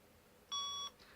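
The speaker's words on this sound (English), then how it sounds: "you'll hear a beep." A Power Rangers in Space Astro Morpher toy gives one clear electronic beep, steady and about half a second long, against quiet background hiss.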